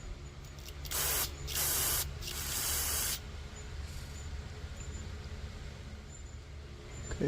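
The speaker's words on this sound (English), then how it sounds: "Take some carb cleaner." Carb cleaner sprays from an aerosol can in three close, loud hissing bursts of about a second each, followed by quieter handling noise with no talking.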